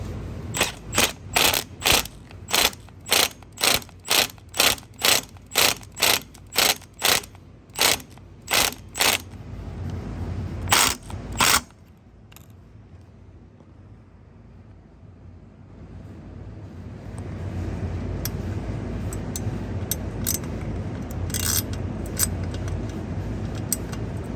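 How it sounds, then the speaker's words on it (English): Impact wrench driving tight bolts on a motorcycle skid plate for a 2023 CVO: a rapid series of about fifteen sharp, loud hammering bursts in a steady rhythm, then two more, followed by quieter shop noise. "trying to use a regular 3/8 ratchet, so I switched to the impact"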